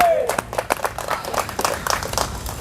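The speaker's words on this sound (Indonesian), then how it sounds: "Berikan sorak-sorai buat Tuhan" Church congregation applauding and cheering, a dense patter of many hands clapping at close range, with a voice calling out over the applause at the start.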